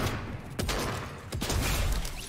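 Rapid sniper and rifle gunfire in a Fortnite Zero Build match, two sharp cracks standing out over a dense, loud burst of continuous in-game shooting and action noise.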